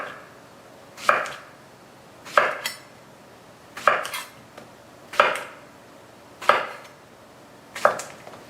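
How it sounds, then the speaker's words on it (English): A knife slices trimmed zucchini into half-inch rounds on a cutting board, giving six crisp, evenly spaced chops roughly every second and a quarter, close and clear with no voices. "And then I'm going to slice them in about 1/2 inch thick slices."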